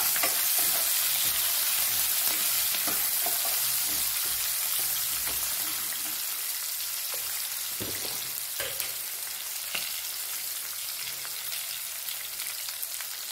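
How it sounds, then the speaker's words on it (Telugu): Finely chopped medium onion and four green chilies frying in a tempering of hot oil, a dense, continuous sizzle with brief stirring scrapes, steady and close throughout with no talking. "ఒక మీడియం సైజ్ ఉల్లిపాయ, ఒక 4 పచ్చిమిర్చి ఇలా సన్నగా తరుపుకొని చక్కగా వేసేసుకుని వీటిని కూడా ఫ్రై చేసుకుందాం"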